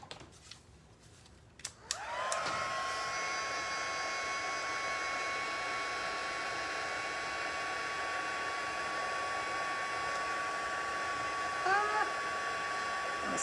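A heat tool melting white embossing powder on a birthday card starts with a click at about two seconds, then blows a steady, loud, high-pitched whir that holds unchanged for the rest of the clip.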